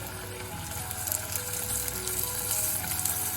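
Asparagus sizzles and crackles in butter in a hot pan, a close, continuous frying hiss with small pops and stirring scrapes, no voices.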